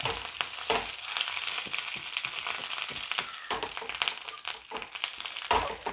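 Mustard seeds spluttering in hot oil with curry leaves and dried red chillies for a Kerala mango thodukari, a steady crackling sizzle with sharp pops scattered throughout, close and fairly loud with no talking.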